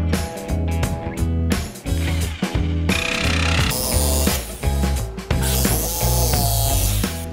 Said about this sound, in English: we've got the jigsaw set up with the metal cutting blade